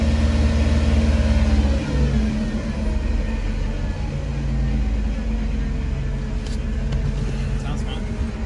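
A broken-down van's engine revs steadily up close, a continuous low rumble that swells early and then holds at a fairly even idle-like drone.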